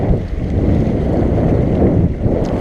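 Strong wind roars steadily across the microphone while under sail on a sailboat, a dense low rumble that stays loud and unbroken throughout, with water rushing faintly beneath it.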